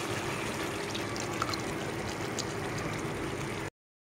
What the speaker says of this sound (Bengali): এখানে ফেটিয়ে রাখা দইটা দিয়ে দিব।